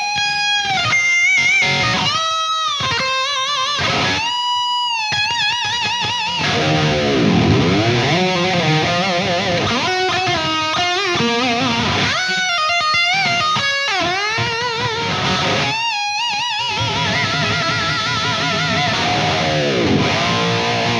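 An electric guitar runs through an amp plugin with added reverb, playing bluesy clean phrases of single notes and chords that ring and decay into a reverb tail.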